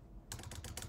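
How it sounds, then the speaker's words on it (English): Quick, faint clatter of fingers on a computer keyboard, several keystrokes in fast succession typing a command, heard alone. "I can now type"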